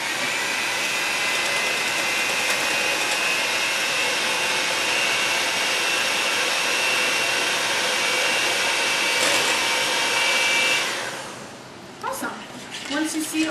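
Electric hand mixer beating egg, milk, Greek yogurt and applesauce together for a brown sugar cinnamon loaf, a steady loud whir running unbroken for about ten seconds before cutting off, followed by faint clinks.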